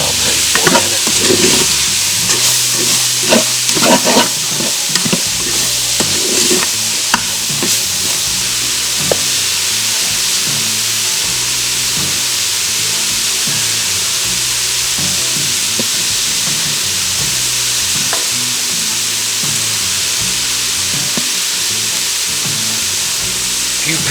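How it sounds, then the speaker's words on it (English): Ingredients seasoned with salt and cracked pepper sauté in an Instant Pot for corn and potato chowder, making a loud, steady sizzling hiss with some stirring clatter early on that then settles into constant frying. "Let that saute for a minute."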